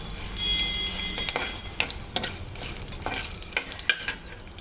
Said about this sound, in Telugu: మిరపకాయలు వేసుకొని కొంచెం బాగా వేగిన తర్వాత బాగా వేగాలి